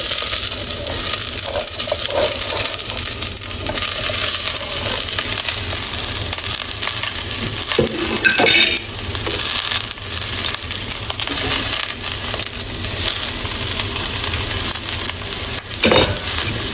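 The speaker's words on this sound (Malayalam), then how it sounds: "ബാക്കി എടുത്ത് വെച്ചിട്ടുള്ള എല്ലാ പച്ചക്കറികളും ഇതിലേക്ക് ഇട്ട് കൊടുക്കാം" Vegetables sauté in a pan for a low-calorie vegetarian soup, giving a steady close sizzle with scraping and clinking of a spoon stirring against the metal.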